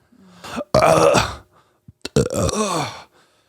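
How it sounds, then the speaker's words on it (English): A loud, drawn-out burp close to the mic, followed by a second shorter guttural burp after a short pause. "Do you hear me burp just then?"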